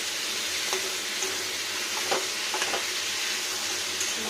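Peas and potatoes sizzle steadily in a hot pan while a utensil stirs them, giving a constant frying hiss broken by a few scraping clicks, with no talk.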